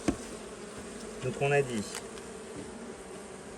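Honeybees buzz steadily around an apiary hive during an inspection, a soft continuous drone in the background while a person speaks briefly.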